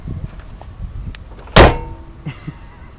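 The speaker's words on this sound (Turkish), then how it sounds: "Kapı sesini çekebilir misin şöyle?" A single solid Tofaş Doğan car door thud lands sharply midway, followed by a short fading rattle, against quiet background.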